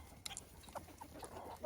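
Chickens, including French Copper Marans hens and a gray rooster, cluck softly in short scattered calls at a distance, quiet and sparse over a faint background.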